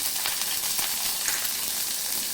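Green chillies dropped into hot oil with spluttering mustard seeds, a steady bright sizzle and crackle throughout with no talk over it.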